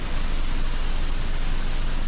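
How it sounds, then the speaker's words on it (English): A roadside waterfall in Samoa pours with a loud, steady, broadband rush of falling water that stays constant throughout, close by and with no other sounds. "A waterfall, casually right by the street."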